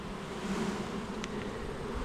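Thousands of honey bees droning around an opened backyard hive during a honey harvest, a dense, steady close-up buzz with one brief sharper flick partway through.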